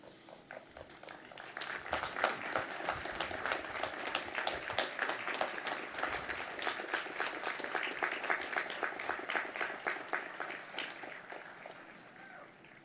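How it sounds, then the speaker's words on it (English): Graduating class at a 2021 Marymount commencement stands and applauds their faculty, a dense, steady round of many hands clapping that swells and holds for several seconds, with faint crowd murmur underneath. "Class of 21, would you like to stand and applaud those who taught you?"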